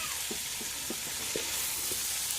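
Shredded cabbage fries and browns in a pan for a village-style cabbage egg dish, a steady bright sizzle broken by soft periodic scraping of a spatula stirring the pan.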